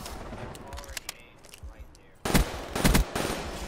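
Gunfire in Call of Duty Black Ops III: faint scattered shots and light movement at first, then a loud burst of several close rapid shots in the second half.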